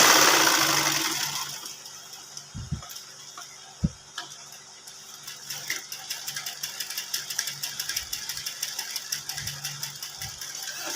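A sewing machine stitches a ladies' side pocket in a fast, steady mechanical ticking that runs for several seconds. A couple of dull knocks come first, then the running stays at a moderate level, with no talk.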